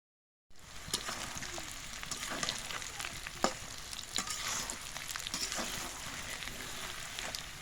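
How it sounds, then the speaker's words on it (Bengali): Mango pieces frying in mustard oil with dried chilli, bay leaf, cinnamon, cardamom and five-spice, a continuous crackling sizzle with scattered pops and stirring scrapes, close and steady after a brief silent start. "এখন সর্ষে তেল দিয়েছি, আর আমগুলো এখন তেলের সাথে ভেজে নিব।"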